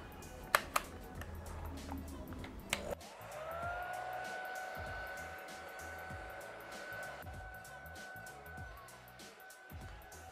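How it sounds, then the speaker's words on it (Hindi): A hair dryer is blowing on hair. A few sharp clicks and handling knocks come first, then the dryer starts up into a steady whine that holds to the end, loud and close. "अब जाके हम अपना ड्रायर में हीटर को ऑन कर सकते हैं।"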